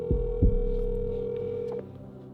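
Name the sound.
outgoing phone call ringing tone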